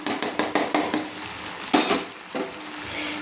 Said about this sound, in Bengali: চিংড়ি মাছগুলো দিয়ে একটু নেড়ে নিচ্ছি।